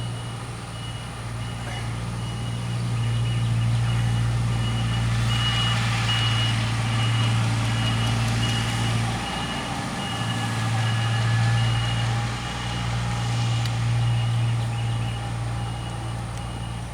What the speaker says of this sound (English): There's a truck coming, a work vehicle.